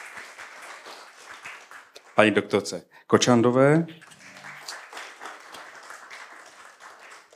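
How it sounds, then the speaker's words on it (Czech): An audience at a Czech palliative care panel discussion applauds the panel speakers with a steady wash of clapping throughout. A host speaks over it in the middle. "Můžete tleskat."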